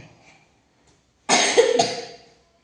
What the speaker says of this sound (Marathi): भरपूर तुझा अजून खोकला आहे वाटतं आहे